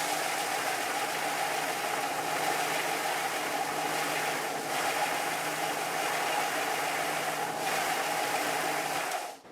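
A radius disc sander shapes the foot of a guitar bridge with a steady, loud motorized whir and abrasive hiss that holds for the whole stretch.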